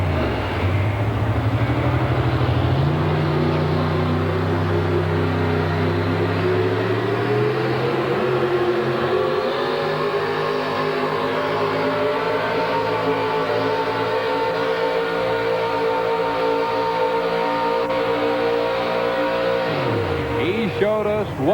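A modified truck's engine roars under load during a truck pull at a 1986 USHRA event in Philadelphia, its pitch climbing and holding a loud, sustained growl while an announcer talks over it.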